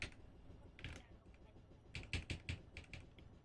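Computer keyboard typing comes in quick bursts: a few keystrokes early, then a rapid run of clear, close clacks over a low background rumble.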